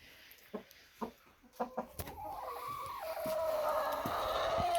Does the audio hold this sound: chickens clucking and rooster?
yes